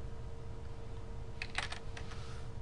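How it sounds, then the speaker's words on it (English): Keys clatter on a computer keyboard during a spreadsheet data-entry session, a short burst of quick, faint clicks rising out of a steady low hum, then a few scattered taps. "You can just start typing."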